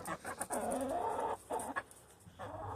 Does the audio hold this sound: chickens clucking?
yes